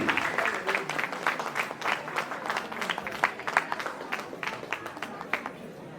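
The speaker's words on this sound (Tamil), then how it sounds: "எங்கே உங்கள் கரகோஷம்?" Audience applause fills a Tamil New Year celebration hall in Buffalo, New York: a dense, steady wash of many hands clapping at moderate loudness throughout, without a break.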